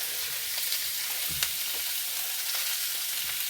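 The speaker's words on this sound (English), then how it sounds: "our pan's getting hot, so we're going to throw in our chicken" Chicken sizzles and fries steadily in a hot pan, a dense close hiss with a few brief stirring clicks and pops, no voices.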